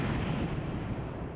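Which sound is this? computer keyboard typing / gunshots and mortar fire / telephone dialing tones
gunshots and mortar fire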